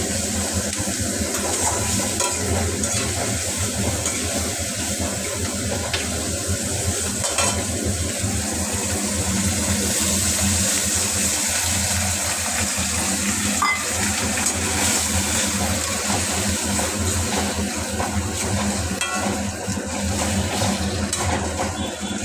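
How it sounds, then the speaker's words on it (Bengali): Chilli chicken with tomato and chilli sauce sizzles steadily in a pan while a spoon stirs and scrapes through it, a constant close frying hiss with no talking. "একটুখানি আরেকটু নেড়ে নিই।"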